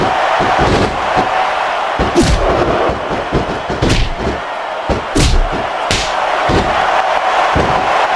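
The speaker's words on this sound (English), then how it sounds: "I love hearing the crowd come alive" Arena crowd noise from the WWE SmackDown vs Raw 2006 wrestling video game, a steady loud roar with repeated thumps and slams from the ring throughout.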